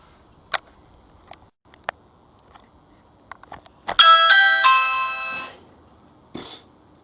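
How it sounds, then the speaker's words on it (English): A doorbell chimes at midnight outside a house in a quiet neighborhood, a multi-tone ring that sustains for about a second and a half after a few faint taps and clicks, with a brief softer chime near the end. "ringing a doorbell at midnight."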